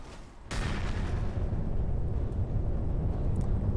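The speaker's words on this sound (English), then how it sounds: "Looks like a very small nuke." A nuke grenade detonating in the game Cryptark, a sudden loud blast that swells into a sustained, heavy rumbling roar lasting several seconds.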